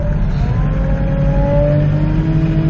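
A heavy tractor engine drones steadily at close range as the loader tractor drives backwards, its pitch rising slightly as it moves.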